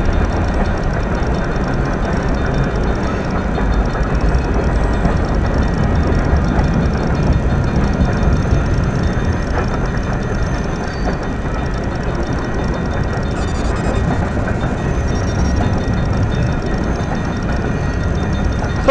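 A pair of P&W C40-8W diesel locomotives roar past at high speed on old rails, a loud, steady broadband rumble with rail clatter and wheel noise sustained throughout, recorded from a vehicle dash cam.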